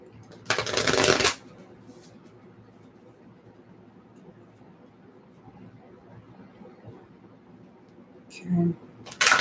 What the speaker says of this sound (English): So let me shuffle these cards for Sag.